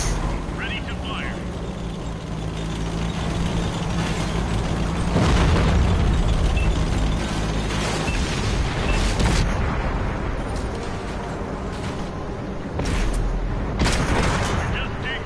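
Tank cannons fire and shells explode in World of Tanks, heavy booms and bursts rising over a constant rumbling battle din, with people talking throughout.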